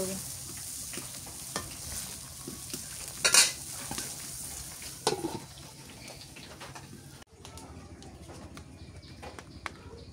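Pieces of fish go into a spiced curry simmering in a pot over an outdoor village fire, giving a low frying sizzle with scattered stirring clatters, one sharp burst partway through, and faint birdsong in the background.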